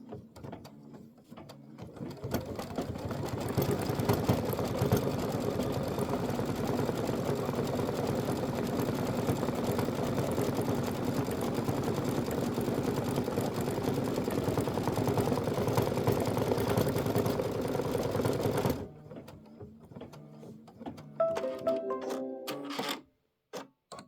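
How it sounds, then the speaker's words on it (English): Embroidery sewing machine stitching a decorative quilt appliqué pattern: a steady, fast mechanical whirring hum with a ticking needle rhythm for about sixteen seconds, then stopping, followed by a few soft handling clicks. "It's going to do the decorative stitching."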